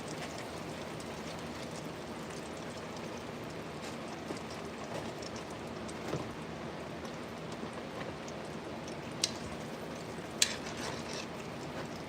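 Soft, steady patter of rain with faint scattered drips and an occasional louder tap, quiet and continuous throughout.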